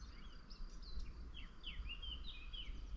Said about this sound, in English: all the birds are waking up now that the big eagle's gone